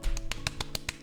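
A voice imitates cats rapidly slapping each other's paws, like cartoon characters slapping hands together: a quick series of about seven sharp, close taps in a steady rhythm lasting about a second, with no talking.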